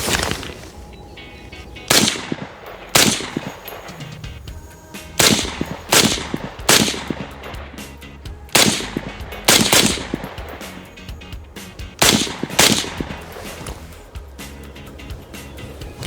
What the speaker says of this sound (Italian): Ok, ho sparato i primi colpi.